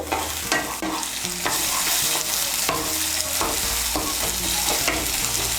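Ginger and garlic paste frying in oil for masala bhindi, a steady loud sizzle with repeated scraping stirs at a regular rhythm, close up and without any voices.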